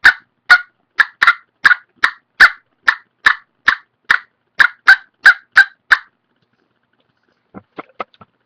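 A turkey slate call played up close gives a run of about fifteen evenly spaced raspy yelps, then a short pause and a few quick faint clucks, with no talk over it.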